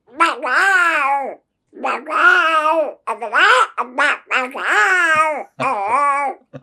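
A comedian performs on stage, imitating a cat meowing with his voice: a string of drawn-out, wailing meows in several close, loud phrases separated by short pauses.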